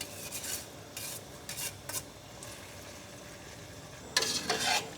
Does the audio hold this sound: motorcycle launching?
no